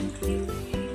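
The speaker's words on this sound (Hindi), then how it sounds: "आधी वाटी ये पानी" Half a cup of water is poured into a pan of spiced chicken and capsicum, making a short, close splash and gurgle that lasts about a second.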